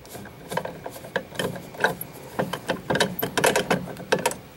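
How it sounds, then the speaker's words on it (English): A Phillips screwdriver works a small screw out of a Siemens SXL-EX fire alarm system component, making irregular close ratcheting clicks and scraping turns throughout, alone without talk. "Got to unscrew this little screw right here."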